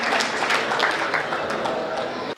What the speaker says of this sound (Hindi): एक बार जोरदार तालियां आप बजाए हेमंत की।